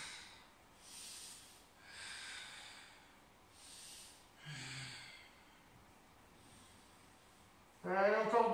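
Soft, airy breaths are exhaled during a stretching exercise, several faint, hissy puffs about a second apart, followed by a brief voice near the end.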